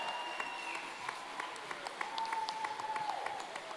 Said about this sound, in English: let's give the Creeland dancers a big round of applause one more time